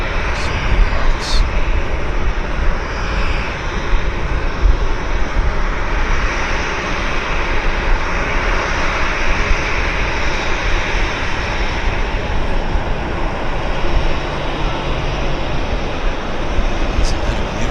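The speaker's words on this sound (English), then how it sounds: "Isn't that a beautiful looking aircraft?" A sports team charter plane at Vancouver Airport gives a loud, continuous jet engine roar that stays steady and close throughout, with faint voices now and then.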